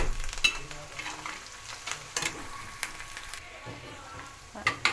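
Sliced onion and green chillies sizzling in hot oil with ginger garlic paste added, broken up by scraping stirs and sharp spatula clinks against the pan, close by.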